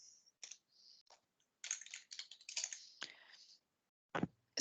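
Typing on a computer keyboard: quiet, nearby bursts of rapid key clicks separated by short pauses, ending with a couple of sharper taps.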